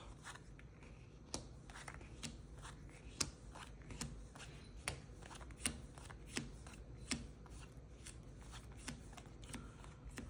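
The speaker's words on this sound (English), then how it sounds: "you're going to shuffle the 16 cards" A small deck of 16 playing cards being shuffled by hand, a quiet steady riffle of card swishes punctuated by sharper snaps and taps, close up with no talking.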